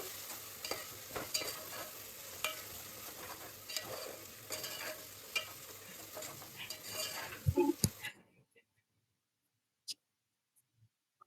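Biryani masala paste fries and is stirred in a pan, a steady close sizzle broken by spoon scrapes and clinks, then it cuts off abruptly to near silence with a few faint clicks.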